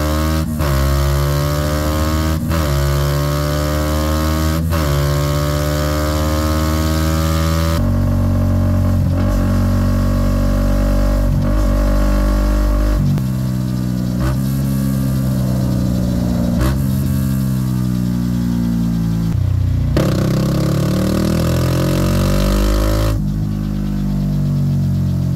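Motorcycle engine with a replacement exhaust pipe revving hard to high RPM during tuning, loud and close, with long sustained wails and sweeping pitch changes broken by sharp drops and surges.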